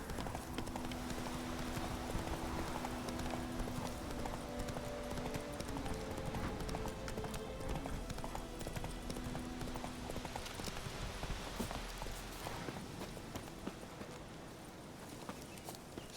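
Hooves of Roach, Geralt's horse in the video game The Witcher 3, clip-clop in a steady walking rhythm, moderately close and fairly quiet over a soft ambient background.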